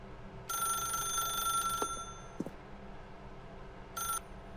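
A telephone rings in the video game The Stanley Parable: two bursts of bright, steady electronic ringing, the second shorter, with a couple of faint clicks between them over a low background hum.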